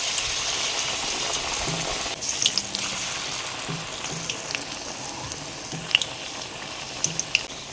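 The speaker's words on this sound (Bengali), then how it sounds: "একেবারে গরম তেলের মধ্যে দিয়ে দেবো।" Batter-coated chilies frying in oil over medium heat, giving a loud, steady hiss and crackle with occasional sharper pops, close up and uninterrupted, without talk.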